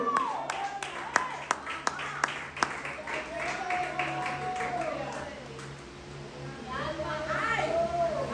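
Quick, sharp rhythmic claps ring out at a church service, then give way to a preacher's continuous speech over a low hum.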